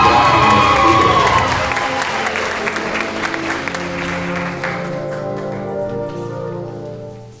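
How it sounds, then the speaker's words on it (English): Audience at a spring school band concert applauds and cheers loudly from the start, the clapping slowly fading as a low hum of crowd voices and background sound remains. "please keep applause brief so every name can be heard and honored"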